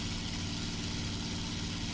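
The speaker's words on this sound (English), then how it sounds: "I will now turn on the engine sound again" Steady droning piston engine of a P-51 D-20 aircraft in War Thunder, a constant low rumbling hum with no change in pitch or loudness, heard alone.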